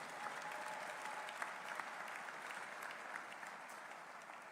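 Steady applause from an audience honoring staff members at a West Virginia University coaching introduction, a dense wash of clapping at moderate distance that holds evenly throughout without any speech.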